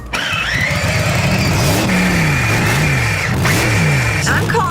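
A kid's Power Wheels toy monster truck revving, its engine-like whine rising and falling in repeated swoops, loud and close, with voices faintly underneath.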